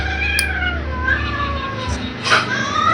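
Cat having its nails clipped, meowing and yowling loudly and up close in drawn-out, wavering cries that rise and fall over several seconds.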